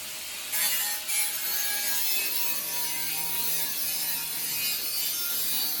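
A small handheld nibbler chews through sheet metal during metal-shaping fabrication work, making a steady, continuous rasping grind with a faint mechanical chatter that runs unbroken for several seconds, with no voices.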